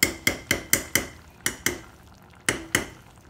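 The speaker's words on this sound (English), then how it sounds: "So I'm gonna stir all this around." Spoon clanking against a pot while chili sauce ingredients with brown sugar, Worcestershire sauce and cider vinegar are mixed: about ten sharp, close metallic knocks in a quick, uneven rhythm, with no talking.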